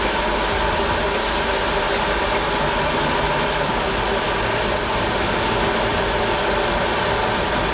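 Honda racing motorcycle engine at the 1969 Bol d'Or, a steady, loud, continuous roar that fills the whole stretch without a break and with no voices.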